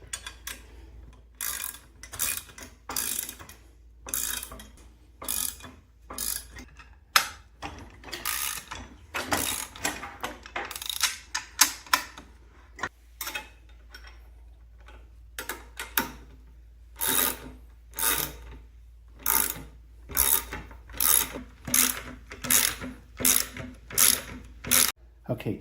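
A ratchet wrench with a 1/2 inch socket clicks in quick bursts of rapid pawl ticks while mounting wheels on a drum sander, with short pauses between strokes, close and moderately quiet, and no one speaking.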